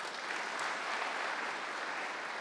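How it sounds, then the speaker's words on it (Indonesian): Steady applause from a church congregation at an online Indonesian worship service, a dense, even wash of clapping that holds at a moderate, slightly distant level throughout. "Yang setuju, tepuk tangan bagi dia."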